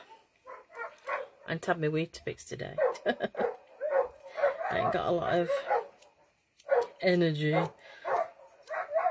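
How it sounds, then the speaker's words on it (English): Several dogs bark, yip and whimper close by indoors in repeated bursts, loud and insistent, interleaved with and overlapping a person talking. "Apologies for the dogs."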